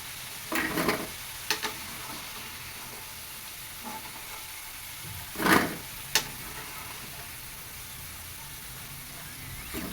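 Potatoes frying in a pan with a soft steady sizzle, broken by a few sharp scraping clatters as pieces are stirred and lifted out onto a plate.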